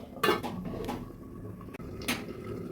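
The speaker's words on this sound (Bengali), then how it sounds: "এবার ফুটতে দেব ঢেকে দিচ্ছি" A lid set onto a cooking pot gives a few short metallic clanks and rattles against quiet kitchen background, with no voices.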